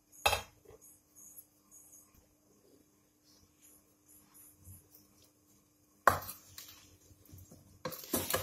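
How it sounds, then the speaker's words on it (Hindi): Mango pickle pieces being mixed in a bowl with roasted red chilli, turmeric and salt: short loud bursts of clattering and scraping, separated by quiet stretches with faint handling noise. "अब अच्छी तरह इसे मिक्स कर लेते हैं।"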